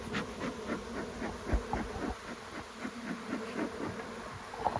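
Honey bees buzz continuously around a beehive, a dense close swarm drone with passing individual bees flying near, steady and moderately loud throughout.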